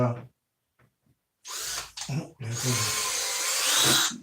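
A power drill drives screws into hardboard while installing a scenic backdrop, with two short whirring bursts and then a longer, louder straining run close by.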